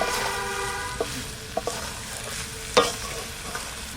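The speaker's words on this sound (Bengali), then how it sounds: "একটু ভালো করে কষাই নিই" Green jackfruit with salt and turmeric stirs and sautés in a pan in a village kitchen, a soft continuous sizzle broken by a few sharp spatula scrapes and knocks, close and alone.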